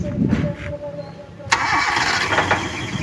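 A Toyota Kijang engine, freshly serviced at the carburetor, cranks and catches abruptly midway, then settles into a steady, moderately loud idle; voices are heard talking over it.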